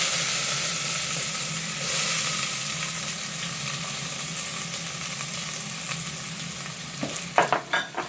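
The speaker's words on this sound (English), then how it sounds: "We're going to take the onions and add those in." Onions sizzle steadily as they fry in hot olive oil in a pan for soup, a continuous bright crackle with a few sharper spatters and stirring clatters near the end.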